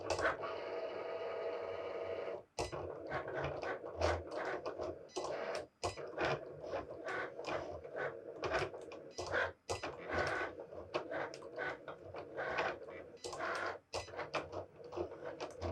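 A Cricut Explore Air cutting machine works through a cut, its motor whirring in short, busy bursts separated by brief pauses, keeping a fairly even, moderately loud mechanical rhythm throughout.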